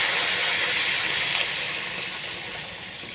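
Water hits a hot pan of fried bhot fish with a loud, steady steam hiss that starts strong and slowly fades over a few seconds, with no voices.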